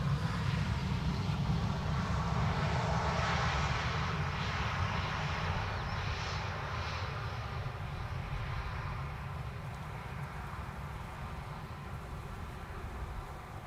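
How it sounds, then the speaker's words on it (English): A jet airliner at Amsterdam Schiphol Airport, a broad steady roar of engines that slowly fades over the span, distant and without talk. "Sun Express in the meantime landed here just now."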